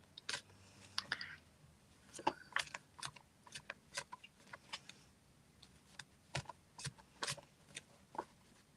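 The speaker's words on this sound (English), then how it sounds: "I think the cards are well shuffled by now." A rapid, irregular series of crisp clicks and flutters, like a deck of cards being riffled and shuffled close by, with brief pauses between bursts.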